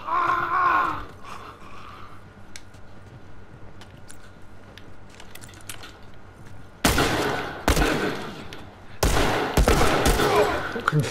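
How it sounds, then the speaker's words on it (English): Gunfire in The Last of Us video game, several bursts of loud, sharp shots arriving in quick clusters late on, after a quieter stretch of low game ambience with scattered faint noises. "confused by Tommy's gunfire just then"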